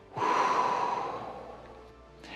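A single long, breathy exhale close to the microphone, starting with a sharp onset and slowly fading over about two seconds.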